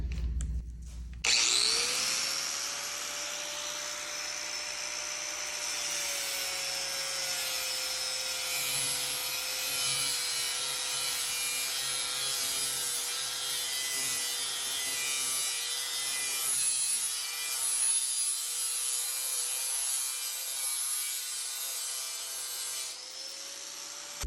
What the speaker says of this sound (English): I'm going to be using a combination of an angle grinder with a sanding disc and the belt sander.